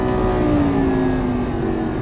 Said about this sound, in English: One thing's for sure, this car sounds awesome, doesn't it?